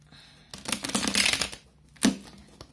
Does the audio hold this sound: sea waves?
no